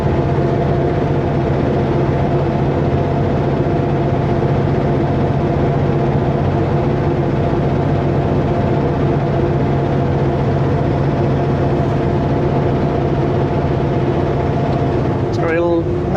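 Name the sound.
truck engine climbing uphill in gear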